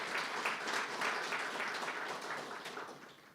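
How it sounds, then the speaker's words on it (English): An audience at the Governor's annual monetary policy statement gives the Monetary Policy Consultative Committee a round of applause, moderately quiet continuous clapping that gradually tapers off. "Please give them a big hand of applause."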